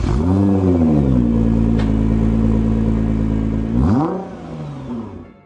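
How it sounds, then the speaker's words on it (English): A cold car engine roars loudly at high revs, holds a steady drone, then revs up again briefly before dropping away. "Revving a cold engine."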